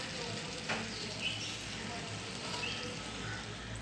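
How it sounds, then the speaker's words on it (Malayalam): Unnakkaya, a Malabar banana snack, sizzling in hot oil over medium heat, a steady soft crackle and hiss with a few faint clinks, fairly quiet and continuous. "മീഡിയം തീയിലിട്ടിട്ട് നമുക്കിതും കൂടി ഒന്ന് ഫ്രൈ ചെയ്തെടുക്കാം"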